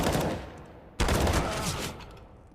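Gunfire in a CS:GO firefight on Mirage comes as a dense, loud burst of rapid shots, then a sharp onset of a second volley that rattles on before tapering off.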